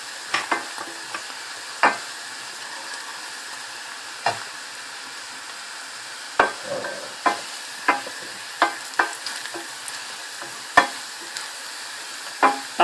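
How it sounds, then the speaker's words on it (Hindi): Lightly pink onions frying in a pan with salt, chili and turmeric give off a soft, low sizzle, broken every second or so by sharp scrapes and taps of a spoon stirring against the pan. "अब मैं इसमें नमक मिर्चें और हल्दी डाल के इसको भूनती हूँ"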